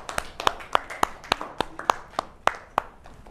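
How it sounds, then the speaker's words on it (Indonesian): A group of people clap for a classroom group about to present: about a dozen sharp, fairly evenly spaced claps over a few seconds, close and moderately loud, with no talking over them. "Beri tepuk tangan dulu untuk kelompok"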